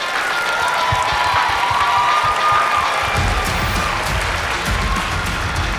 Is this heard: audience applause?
yes